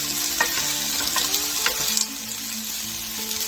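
Softening vegetables, potatoes among them, fry and are stirred in a pan. The bright sizzle and crackle rises and falls with the stirring, over a low tonal background, then eases after a couple of seconds.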